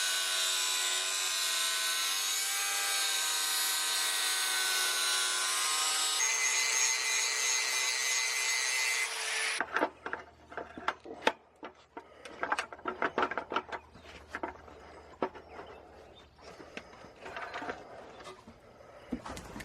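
A large thin cutting disc grinds through wood with a steady, high, whining cut for about nine seconds, then stops, followed by scattered scraping and knocking sounds from handling the workpiece.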